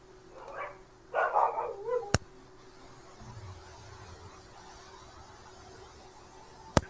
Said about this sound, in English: even my dogs know this is a bad idea. You hear them barking?